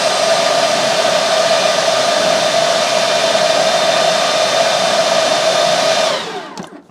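A Stihl BGA85 handheld battery leaf blower runs at a single steady speed with a loud, even whooshing roar and a whining tone on top, then switches off near the end and winds down quickly.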